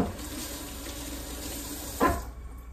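Tap water runs steadily into a kitchen sink while fresh thyme is rinsed under it, a close continuous splashing stream with a brief louder gush near the end and no talking.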